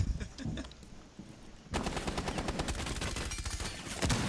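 Rapid bursts of gunfire in Rainbow Six Siege on the Club House map, quiet at first and then dense, continuous shooting from about the midpoint, with sharp repeated cracks close by.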